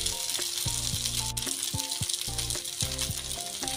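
Noodles fry in a pan with noodle masala, giving a steady sizzle across the whole stretch, with a tonal melody playing over it.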